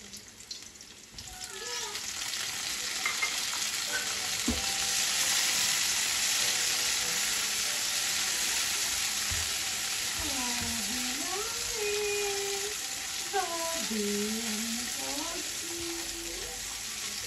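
Tomatoes frying in a pan for munggo, a steady loud sizzle throughout with a voice speaking over the cooking in the latter half.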